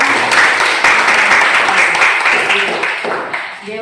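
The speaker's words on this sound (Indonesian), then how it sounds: "Kita kasih aplaus lagi dong." Audience applause at an Indonesian press event, loud dense clapping from a crowd that swells and then gradually fades out over a few seconds.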